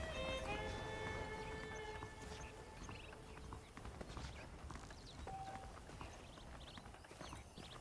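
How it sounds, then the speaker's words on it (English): Saddled horses walking in Red Dead Redemption, faint steady clip-clop of hooves under quiet ambient sound, with a few soft tones in the background. "The horses are saddled up over here."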